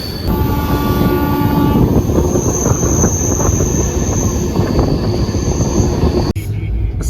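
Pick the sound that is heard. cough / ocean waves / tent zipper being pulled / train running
train running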